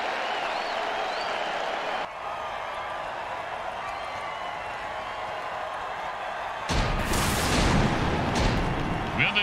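Fireworks go off over a football stadium after a touchdown, loud bangs and crackling bursting over a steady roar of cheering fans in the final seconds.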